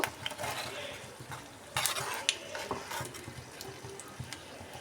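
Fried egg-and-flour snacks being lifted from a pan of hot oil, with a soft sizzle beneath clinking utensil scrapes and taps against the pan at close range.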